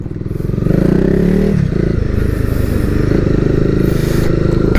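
A Honda CBR300 motorcycle rides through Bangkok city traffic, its engine a loud, steady, close drone with a rising rev early on, mixed with road rumble and wind.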